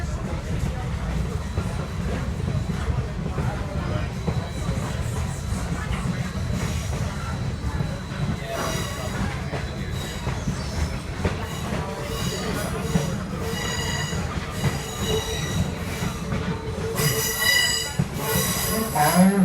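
A Great Smoky Mountain Railroad excursion train rolling through the Nantahala Gorge, wheels squealing and rattling continuously under a heavy low rumble, with high screeches building near the end.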